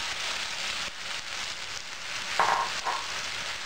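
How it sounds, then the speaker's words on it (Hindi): Ground pineapple puree goes into a hot pot for a South Indian pineapple sweet, giving a steady, loud broadband sizzle throughout with a brief brighter hiss swelling near the end. "अब ये पीसा हुआ अनानास इसमें डालेंगे"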